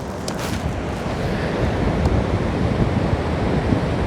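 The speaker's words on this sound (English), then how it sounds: "Hopefully my tripod's going to be stable, because this is some really rough wind." Strong, rough wind buffeting a microphone on an exposed coast, a steady loud roar with crashing surf beneath it, with no voices.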